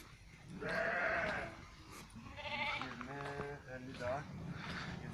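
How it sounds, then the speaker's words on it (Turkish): Sheep and lambs in a livestock pen bleat a few times close by, the harmonic cries rising over a background murmur while a voice talks beneath them. "Kaç tane koyun var burada?"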